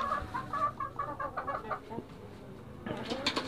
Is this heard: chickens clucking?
yes